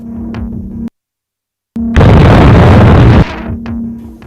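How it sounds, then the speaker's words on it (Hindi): A Hellfire missile strikes a target during a Saudi naval exercise, bursting into a loud, roaring explosion after a brief silence, with a steady low engine-like drone before and after. "इस सैन्य अभ्यास में सऊदी की नेवल फोर्स ने कई टारगेट्स को हेलफायर मिसाइल से नष्ट किया।"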